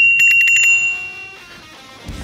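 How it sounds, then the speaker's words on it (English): A small handlebar bell on an off-road all-wheel-drive electric scooter rings in a quick burst of bright, rapid dings, then fades. Soft outdoor background noise continues afterwards. "sweet little dingle bell"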